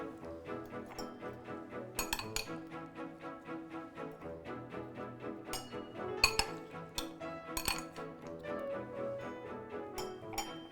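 Cubed melon and fruit spooned into a glass for a parfait, giving a run of light clinks and taps of spoon on glass, some sharper pings standing out, fairly quiet and close with no talk.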